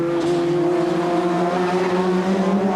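Touring race cars from the 1988 BTCC on Pirelli tyres, engines droning loudly and steadily at close range with layered harmonic tones, a faint tyre note mixed in, no voices.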